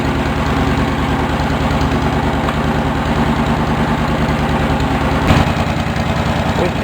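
A Cub Cadet 1650 four-wheel-drive tractor engine runs loud and close at a steady idle, with an even low rumbling throb that continues without a break.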